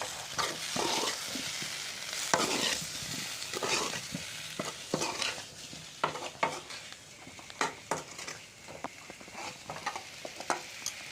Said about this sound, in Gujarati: હવે મિક્સ કરી લઈશું.